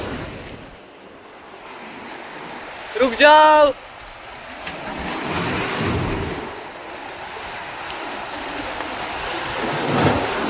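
Sea waves wash over a rocky shore during a day of fishing, a continuous surging roar with swells building and receding, mixed with wind buffeting the microphone; a voice calls out briefly near the start.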